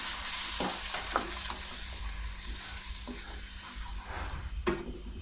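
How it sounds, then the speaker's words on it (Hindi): Tomato paste hits a sizzling pan of chicken karahi with steady frying hiss, while scattered stirring scrapes and clinks cut through the sizzle close to the pan. "जो पेस्ट बनाया था हमने टमाटरों का उसको डालना है।"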